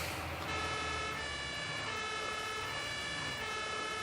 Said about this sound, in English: So we've got the ambulance following behind us.